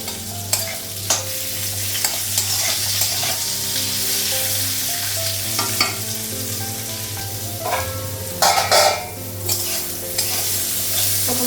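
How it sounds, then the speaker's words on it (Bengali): Pieces of pointed gourd fry in oil in a pan, a steady close sizzle broken by repeated scraping and stirring strokes, with no one talking. "পটলটা ভাজা হয়ে গেছে।"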